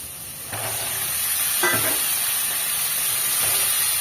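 Pieces of ridge gourd drop into hot, spiced oil in a pan, setting off a sudden loud sizzle that settles into a steady close hiss with light stirring scrapes.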